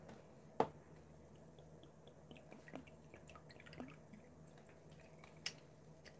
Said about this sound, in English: This is magic paint water.